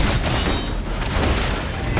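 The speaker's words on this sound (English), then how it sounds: "You're already requesting full suppression gunfire." Suppression gunfire in the video game Love and Deepspace, dense rapid bursts and booming impacts rolling together in a loud, continuous barrage with no clear pauses.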